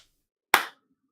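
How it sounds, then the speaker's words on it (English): A single sharp hand clap for audio sync, one loud close crack with a quick decay, alone in silence. "Do a clap sync."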